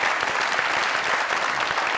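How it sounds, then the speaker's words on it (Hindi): Loud, dense applause from a studio comedy-show audience fills the whole short stretch, steady and close with no pauses. "जोरदार तालियां।"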